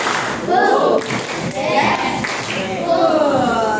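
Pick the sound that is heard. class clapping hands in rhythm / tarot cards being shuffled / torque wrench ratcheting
class clapping hands in rhythm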